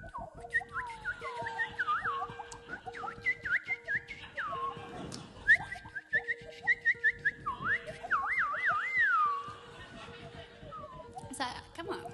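A singer whistles an imitation of a bird on stage at a live concert: quick, warbling rising-and-falling phrases in short bursts over a steady sustained tone, close and fairly clear.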